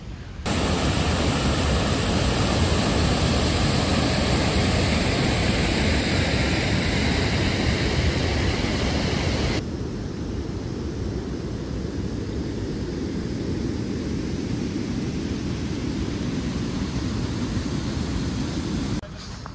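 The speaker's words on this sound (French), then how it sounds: "vous avez vu la cascade" Glacier-fed waterfall near Kranjska Gora roars as a loud, constant wash of falling water, dropping to a slightly softer level partway through as the scene changes, with no talking.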